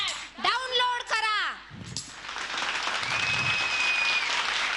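Audience applause at a Mangala Gaur women's group competition in Nashik, a dense wash of clapping that rises after a shouted, amplified voice and continues steadily to the end.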